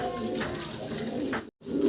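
A pair of racer pigeons coo at a pigeon farm, with low, repeated throaty calls close by under a voice, ending after a brief silent gap.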